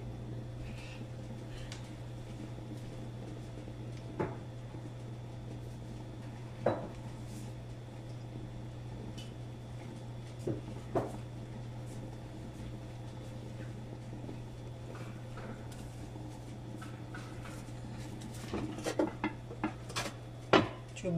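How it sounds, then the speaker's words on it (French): A cooking pot holding fish in sauce is shifted and swirled on the stove, giving scattered soft knocks and scrapes of metal over a steady low hum, with a few sharper clinks toward the end. "Bouge seulement la marmite comme ça pour que ton poisson ne colle pas."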